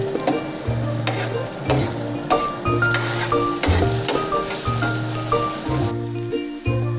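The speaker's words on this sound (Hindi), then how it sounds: "4 अदद मीडियम प्याज बारीक कटी हुई, 4 से 5 मिनट हम इसे फ्राई करेंगे।" Four finely chopped medium onions fry with a close, continuous sizzle in a pan, broken by repeated scraping stir strokes with a spoon against the metal.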